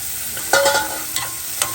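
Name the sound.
vegetable pieces being stirred into frying curry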